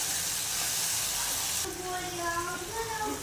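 Tomato puree frying in hot oil for a bendakaya masala curry, a steady loud sizzle that drops abruptly partway through, after which someone talks over a quieter, ongoing hiss.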